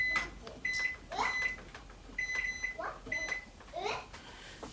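An oven timer is set with a series of short electronic beeps at irregular intervals, mixed in with people talking nearby.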